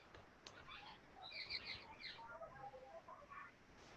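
Sparrows chirping in a quiet outdoor setting: scattered, faint high chirps and tweets come in short bursts over about four seconds, with no talking.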